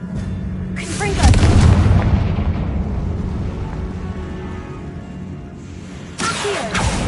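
A heavy booming blast from the Confringo spell in Hogwarts Legacy on PS5 bursts out near the start, then trails off, with a second sharp impact near the end, all heard under a voice.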